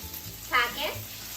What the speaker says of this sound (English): pork is well cooked on all sides. Now, let's add the seasoning.